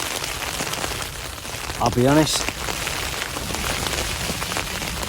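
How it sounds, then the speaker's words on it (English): Heavy rain pounds steadily on a tent during a wild camp, a dense, constant patter close overhead, with someone speaking briefly under it. "it's absolutely chucking down with rain now"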